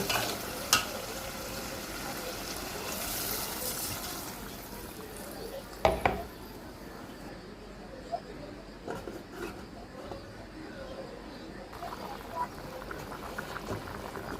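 Gravy is poured into a sizzling pan of egg and potato curry and stirred, giving a soft, steady frying hiss broken by a few sharp scrapes and clinks of the spoon.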